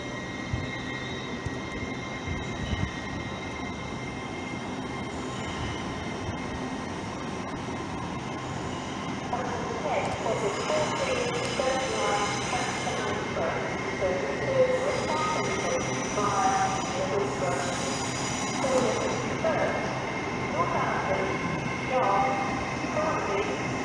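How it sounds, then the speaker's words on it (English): An LNER Azuma train departs platform 6 at York station, a steady rumbling rolling sound that builds and grows busier midway, with station ambience and a voice speaking over it. "leaving over here on platform 6 is the 1435 LNER Azuma service"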